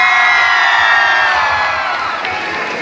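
A crowd in Nashik roars and whoops for an actor's appearance, loud sustained cheering with high children's shouts and whistles filling the air and fading slightly toward the end.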